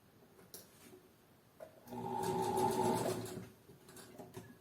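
Sewing machine running a short securing seam on a bodice band, one burst of steady whirring lasting about a second amid quiet handling sounds.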